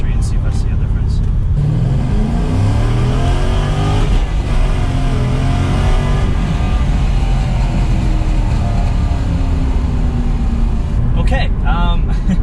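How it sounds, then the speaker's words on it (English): A C6 Corvette fitted with a Vararam cold air intake accelerates on a faster street, its engine note rising loudly and steadily close by, with a person speaking over the engine. "I'm gonna try speeding up a little bit on kind of a faster street and see if I see a difference."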